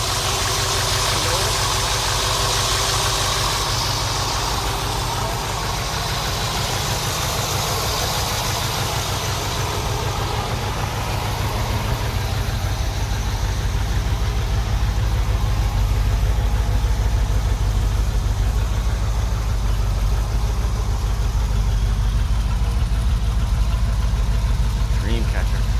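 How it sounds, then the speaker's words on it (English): A 1929 Ford Roadster hotrod with a roller-cam engine and Walker four-row radiator idles steadily with a deep, continuous rumble, while people talk over it. "Sounds like a roller motor, right?"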